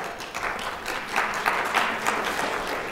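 Audience applause at a closing speech of a 2015 writers' conference, a steady wash of clapping sustained for the full stretch at moderate, even loudness with slight swells.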